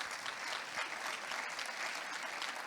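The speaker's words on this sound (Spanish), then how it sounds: "¿qué les parece si le damos un aplauso a los tres para que se animen?" An audience at a business-integrity panel event applauds three speakers, a steady, moderately distant patter of many hands clapping evenly without pause.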